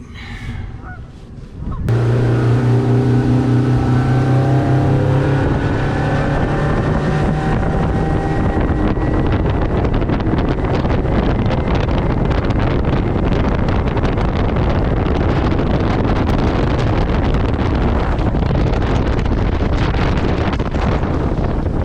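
Motorboat with a Pro Guide 175 hull and a ZV20 propeller running on open water during a prop test, with a loud steady engine drone and heavy wind rush after a brief quieter start.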